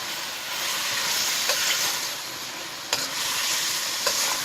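Carrots and bell peppers being stir-fried for chicken fried rice, a steady close sizzle filling the clip, with a few brief clinks from stirring in the pan.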